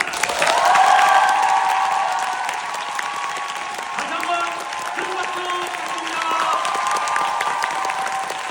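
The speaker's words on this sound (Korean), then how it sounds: "항상 뜨거운 박수로 열렬히 박수를 부탁드리겠습니다" Audience applause at the curtain call of the Seoul Performing Arts Company's musical Jeon Woo-chi on its closing night: dense, sustained clapping from a large theater crowd with some cheering, peaking early and holding steady, a voice faintly over it.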